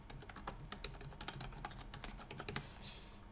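Keys of a computer keyboard clatter in a quick, uneven run of taps, fairly close and quiet, stopping briefly near the end.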